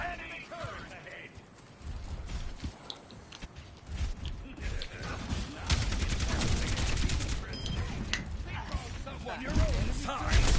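Enemy turret firing in the VR game Tusk, a run of sharp shots and clattering bursts building over music and other game sounds, louder in the second half.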